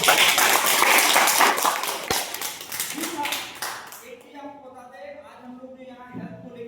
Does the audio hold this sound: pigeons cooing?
no